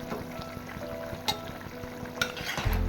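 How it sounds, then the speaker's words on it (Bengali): Vegetable curry broth of potato, eggplant and flat beans bubbling at a steady boil in a pot, a continuous low simmering churn with a few brief sharper clicks, no talking. "ঝোলটা ফুটে গিয়েছে"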